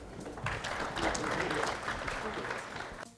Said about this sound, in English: The applause and the appreciation from the crowd really talks about the kind of engagement that has been there this evening